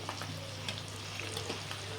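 Crushed ginger-garlic paste fries in oil in a pan. A faint, even sizzle sits over a low steady hum, with light scraping from occasional stirring.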